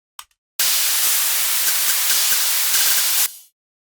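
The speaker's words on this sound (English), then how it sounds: "I've got white noise playing under that" Harsh white noise runs under a music mix, bursting on abruptly after a short click and holding at a loud, flat hiss for about three seconds. Faint hi-hat ticks punctuate it before it cuts off.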